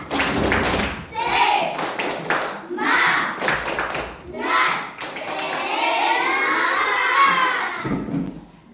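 Schoolchildren in a classroom perform a rhythmic spirit clap, with bursts of group clapping in a patterned beat alternating with children's voices chanting and shouting along.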